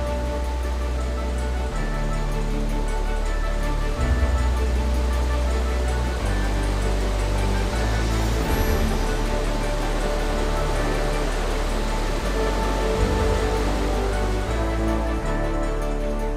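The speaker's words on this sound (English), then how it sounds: "The two waterfalls blend together to create the most beautiful scenery in Plitvice." Two waterfalls at Plitvice Lakes, Croatia, pouring beside a huge limestone wall; a dense, unbroken roar of falling water fills the whole stretch at constant loudness, with no voices.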